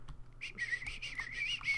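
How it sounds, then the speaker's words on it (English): A person whistles a quick, wavering tune with bright warbling notes rising and falling, played close and fairly quietly over low background hum. "I'm just whistling like crazy."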